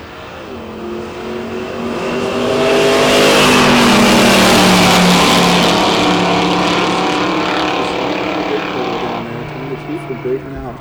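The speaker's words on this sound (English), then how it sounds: "It'll be Gary Hall on the left-hand side of the 72 Monte Carlo, and Keenan Connor on the right." Drag racing at a nitro event with a 1972 Monte Carlo and a street-driven Camaro accelerating down the strip, a loud roaring engine swell that builds, peaks and fades, blended with an announcer talking over it.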